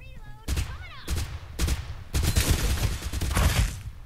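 Weapon fire in the battle royale game Farlight 84, sounding as several loud bursts of rapid shots with short gaps between them, with no talk over the shooting.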